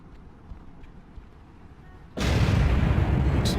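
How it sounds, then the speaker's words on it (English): A sudden loud explosion in the Spider-Man 2 video game bursts in after a quiet, low background hum and keeps roaring and rumbling to the end. "Explosion. Better check it out."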